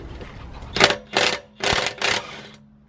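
A large impact wrench loosening wheel bolts on a BMW E60, firing in four loud, separate hammering bursts about half a second each, with short pauses between them.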